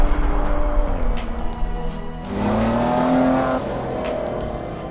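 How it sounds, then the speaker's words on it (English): A Maserati engine revs and accelerates up close, a loud sustained roar rising in pitch partway through with a brief dip before climbing again. "They tune the signature Maserati sound as well."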